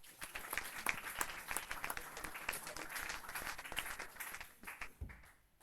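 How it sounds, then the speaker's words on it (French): A conference audience at a strength-training event claps warmly, a busy crackle of hands that runs steadily and then thins out near the end, with faint murmurs underneath. "On peut applaudir bien fort Clément, s'il vous plaît."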